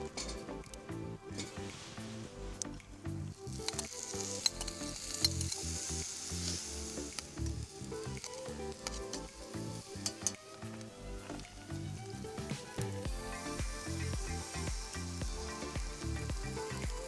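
Vegetables sizzling in a pan over an open campfire hung from a Stansport tripod, a faint steady hiss with soft crackles and occasional stirring knocks throughout.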